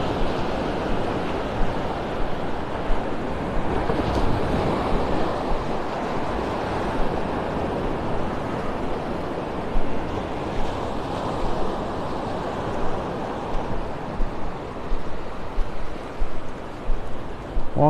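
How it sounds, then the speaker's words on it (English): Ocean waves wash onto a beach in North Naples, Florida, a steady surf roar with gentle swells and some wind buffeting the microphone, continuous and without talk. "Walking the beach on a Sunday morning."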